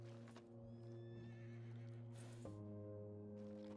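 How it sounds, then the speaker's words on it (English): Horses in the Red Dead video game, a close whinny at the start and again midway over steady soft hoof clip-clop and low ambient hum. "I could hear more than one horse."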